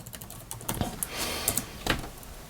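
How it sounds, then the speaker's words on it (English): Fingers type on a computer keyboard in quick, uneven bursts of soft clicking taps, close and fairly quiet, with no voices. "if you type in WooCommerce here"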